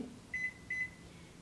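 Microwave oven starting up: two short, high electronic beeps in quick succession over a faint steady hum.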